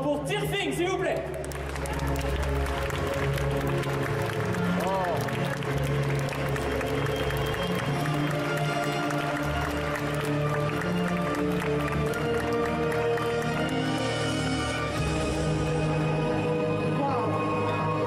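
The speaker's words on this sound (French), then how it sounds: "un tonnerre d'applaudissements pour Tirfing, s'il vous plaît" Applause and scattered cheering from a convention audience during a Sunday cosplay parade at an indoor festival, steady dense clapping that lasts throughout, with music and crowd chatter underneath.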